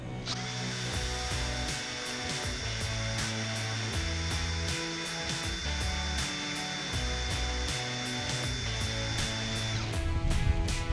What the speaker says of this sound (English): I'm just going to keep turning in the hopes that this bit will vibrate the bolt inside enough that the oil will soak into the rust